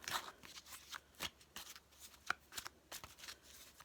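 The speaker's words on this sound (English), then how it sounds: "reshuffle the cards for pile 2. And reshuffle them." Tarot cards being shuffled by hand, quiet riffling and slapping bursts in an irregular rhythm, close and soft, with no talk.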